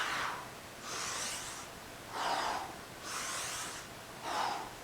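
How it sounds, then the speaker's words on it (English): Someone doing tricep push-ups breathes in a steady rhythm, with five breaths in about five seconds, alternating deep inhales and forceful exhales, close and fairly loud. "and then breathing out"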